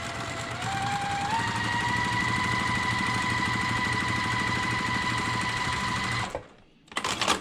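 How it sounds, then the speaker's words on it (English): A sewing machine stitches fabric pieces in one long, steady, fast whirring run that rises slightly in pitch early on, then stops abruptly before a brief rustle of handling. "I'm going to stitch on the line, and I'm actually going to stitch just to the right of that line"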